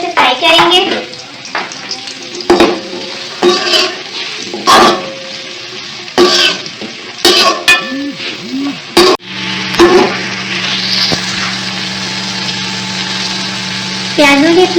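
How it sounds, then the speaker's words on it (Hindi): Chopped onions fry in hot oil in a pan for a layered chicken biryani, a steady sizzle running through most of the stretch, interrupted early by stirring clatter and brief handling noises. "गोल्डन ब्राउन होने तक हम प्याज को अच्छे से फ्राई करेंगे।"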